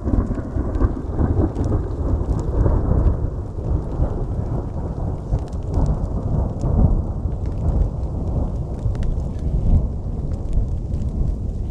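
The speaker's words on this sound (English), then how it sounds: "And then there was the longest roll of thunder" A long roll of thunder rumbles low and continuous through a steady rainstorm in the Colorado mountains, with rain pattering on surfaces throughout.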